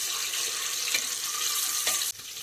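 Four eggs fry in a pan with a dense, even sizzling hiss that holds steady and then drops off abruptly near the end.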